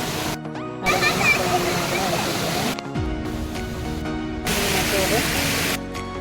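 Water in a stream rushes and splashes continuously, loud and close, with brief cuts in the sound and some voices faintly mixed in.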